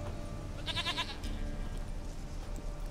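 A goat in The Witcher 3: Wild Hunt gives one short, wavering bleat, fairly close and clear against a low, steady background hum.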